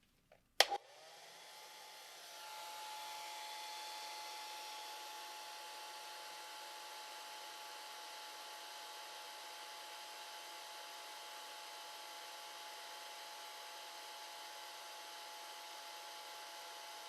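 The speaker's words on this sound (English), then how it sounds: "Now we're going to stop and give it a good dry." A hair dryer switches on with a sharp click and a steady whirring roar, blowing on a watercolor lighthouse vignette to dry the wet paint, running continuously and fairly close throughout.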